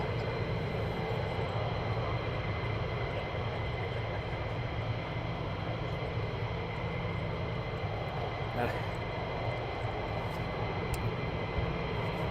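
Military jets at RAF Lakenheath give off a steady, distant engine drone that holds constant throughout, with faint voices murmuring underneath.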